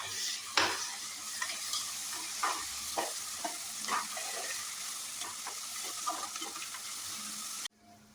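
Onions fry in hot oil for boti curry with a bright continuous sizzle, stirred with repeated light scraping taps, until the sound cuts off abruptly near the end.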